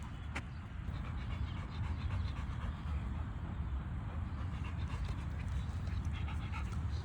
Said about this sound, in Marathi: मार्शलला खूप दम लागला बाबा, सगळा फेस आला मार्शलच्या तोंडातून